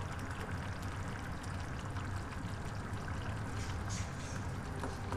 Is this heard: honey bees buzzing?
no